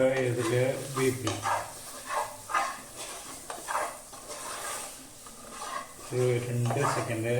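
Curry leaves stirred into sizzling spiced oil in a pan, with a steady crackling fry and scraping strokes running throughout, while someone talks over much of it.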